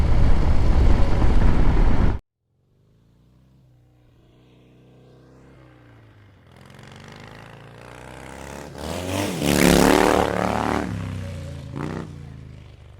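A 2024 Harley-Davidson Road Glide with the 117 engine, heard while riding: a loud wind roar cuts out abruptly, then the motor builds from a low rumble into a strong, rising drone that swells and fades, close and without talk.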